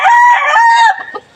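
A loud, close crow from a red Panabong gamefowl broodcock, one long drawn-out call that trails off into a few softer clucks.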